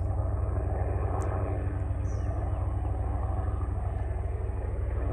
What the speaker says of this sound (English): Of course, I start filming and the helicopter's going to fly over.